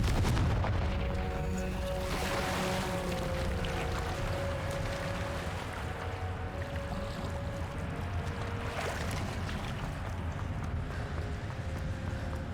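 Confringo fire spell blasts in Hogwarts Legacy rumble as heavy, booming explosions over a dense, continuous roar, with a couple of sharper bursts standing out.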